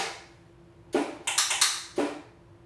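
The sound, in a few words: saxophone extended technique sounds, quartet first movement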